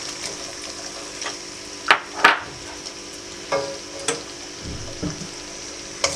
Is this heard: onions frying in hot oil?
yes